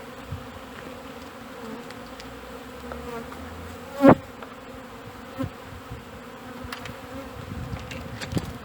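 A steady low hum of many honey bees buzzing at a beehive fills the clip, with one louder buzz passing close by midway.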